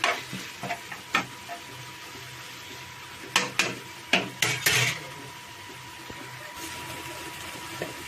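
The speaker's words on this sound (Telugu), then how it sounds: "ఒకసారి టమాటాలు మగ్గుతున్నాయో లేదో చూసుకుంటూ తిప్పుతూ ఉండాలి మగ్గే వరకు." A spoon scrapes and clinks against a pan while tomato pieces are stirred for a Telugu egg and tomato curry, a few sharp metallic knocks spaced irregularly over a low background hiss, close and moderately loud.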